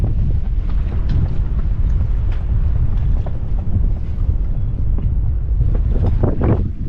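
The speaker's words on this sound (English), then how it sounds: "It's pretty windy still." Strong wind at a sailboat anchorage near Sitka roars and buffets the microphone steadily throughout, a constant low rumble with gusty texture and faint splashing of water.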